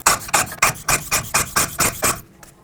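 On a 2008-2010 Ford F-250, the rear wheel hub nut is tightened with about nine quick, evenly spaced ratcheting rasps that stop abruptly.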